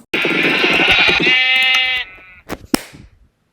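Loud, drawn-out sheep bleating in Minecraft, several overlapping calls merging into one long cry from a large enclosed flock, followed by a couple of sharp clicks.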